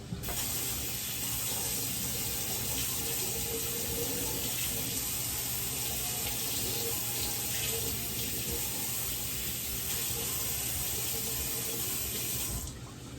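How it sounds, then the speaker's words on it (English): Water runs steadily from a kitchen tap while a knife and a tomato are rinsed under it, a continuous close hissing splash that lasts throughout and stops at the end, with no talking. "Now I'm gonna go ahead and rinse off this knife and this tomato."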